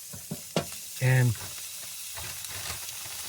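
Frozen burgers sizzle in a pan with a steady hiss running throughout, close up, while a brief louder tone cuts in and a voice speaks a word over the frying.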